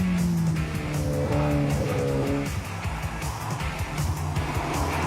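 Ferrari F8 Tributo driving on the road, its engine a loud, continuous close roar whose pitch rises and shifts through gear changes.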